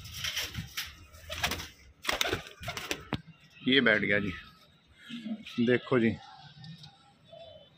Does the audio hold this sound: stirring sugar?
no